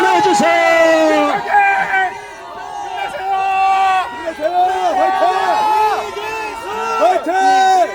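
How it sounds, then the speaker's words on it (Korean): Crowd of supporters at an outdoor political press conference, cheering and chanting in loud, rhythmic unison, with overlapping shouts and whoops rising and falling throughout. "여러분 환호해 주세요"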